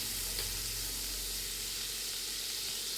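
Chopped tomato frying in hot oil with mustard and cumin seeds, giving a steady, dense, close sizzle that fills the moment alone, with no talk.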